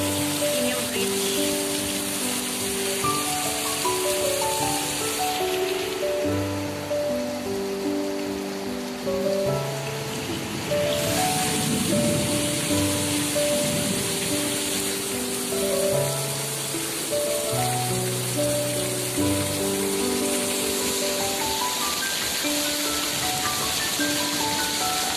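Heavy rain falls in Singapore, a steady, dense wash of hiss that runs without a break, with tonal, music-like layers over it.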